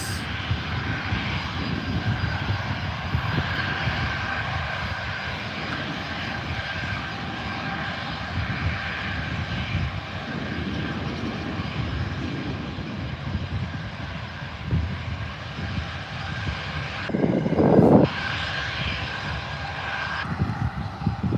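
A Virgin aircraft's jet engines roar at Adelaide Airport, a loud sustained rumble that swells slightly near the end, heard alone without talk.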